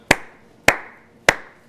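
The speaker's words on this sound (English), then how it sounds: "just clap along with me" Three single hand claps spaced about half a second apart, sharp and close with short decays, from someone clapping along to welcome a performer at a Nashville benefit concert stream.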